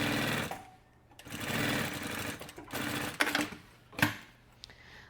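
A sewing machine stitching the bottom seam of a wallet: close, rapid mechanical whirring in several bursts, starting and stopping, with short clicks and knocks between runs.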